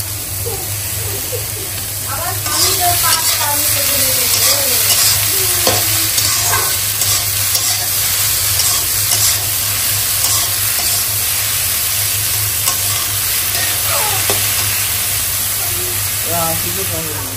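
Bitter gourd and prawns fry in a pan with a steady, close sizzle and stirring clatter throughout, a voice talking over it now and then.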